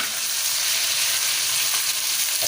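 Onion with ginger-garlic paste frying in a pan gives a steady, close, even sizzle throughout, with no talking.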